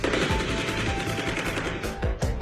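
Rapid bursts of gunshots, loud and repeated in quick succession, with sharp cracks standing out near the end.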